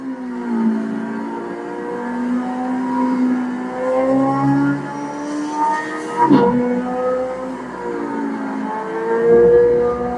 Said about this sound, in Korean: 제가 운전해 볼게요.